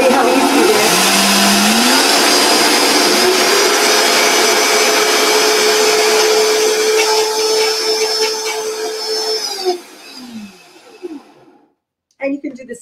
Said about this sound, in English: And you can do this in any blender